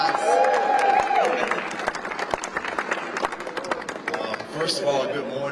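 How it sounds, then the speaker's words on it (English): A crowd at an outdoor mural unveiling for the late Rep. John Lewis applauds with dense, continuous clapping, and voices and cheers mix in throughout. "It's another round of applause."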